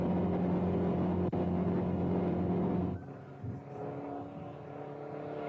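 A Ford Mustang I race car with a 1.5-litre engine passes at about 120 mph on the Daytona Speedway oval, its steady loud engine roar dropping and fading after a few seconds as it goes by.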